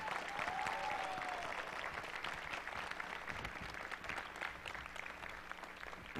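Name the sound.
church audience applause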